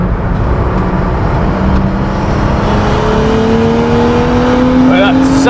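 A 400bhp BMW M135i race car engine on track drones loud and close, its pitch climbing steadily as it accelerates.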